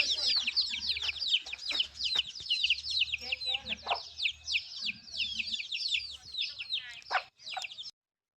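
Chickens cluck and chirp busily, with many quick high calls overlapping almost without pause, over a low background hum and a few faint murmurs.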